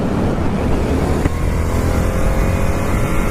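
A 2019 FTR 1200 motorcycle pulls hard under acceleration, its engine a loud, steady roar mixed with wind rush, with no break in the sound.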